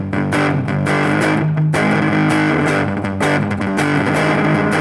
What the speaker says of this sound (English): I'm going to flip the pedal back on again and give myself some distortion.